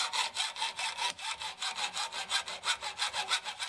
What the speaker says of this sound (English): Then we're just using a hacksaw.